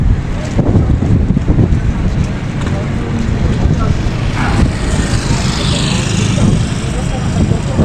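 Strong wind buffets the microphone in a steady low roar at the Port of Lucena, with faint engine rumble and water noise beneath, loud and continuous throughout.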